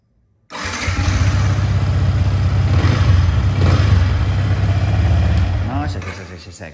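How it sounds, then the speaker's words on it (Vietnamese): A worn motorcycle engine starts up at a repair shop and runs at a steady, loud idle for about six seconds, with someone talking over the rumble. "Máy móc nè. Anh em nghe tiếng máy nè."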